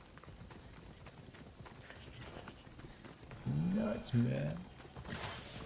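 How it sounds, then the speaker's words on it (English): Horse hooves clip-clop closer in the Assassin's Creed Odyssey video game, a brief burst of galloping over a busy game soundscape, with someone talking over it. "You horsey. What does it take you to get to me?"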